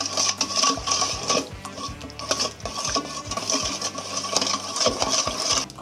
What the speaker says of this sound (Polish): Można to wymieszać.